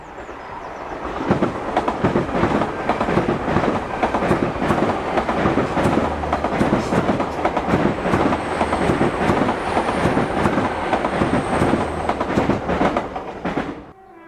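Two GWR Class 800 IET trains pass Keyham on the Penzance to Paddington service, a loud, sustained roar with rapid rhythmic wheel clatter over rail joints and a faint high squeal, fading quickly at the end.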